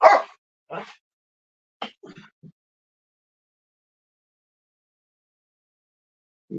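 Dogs in a room give a few short, sharp barks and yips close by, spaced apart by quiet gaps.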